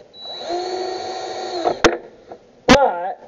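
A power drill with a nut driver drives a lag bolt, whirring steadily up to speed before it stops, followed by sharp knocks and a short burst as the bit bites, close and loud.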